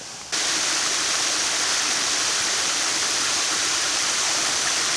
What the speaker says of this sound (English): I'm gonna go in front of the other waterfall.